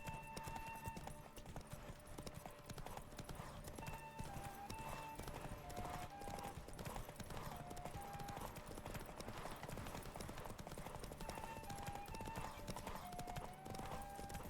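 Steady, rhythmic horse hoofbeats clip-clop at a walk in The Witcher 3, continuously at a quiet level, with faint tonal game sounds in the background.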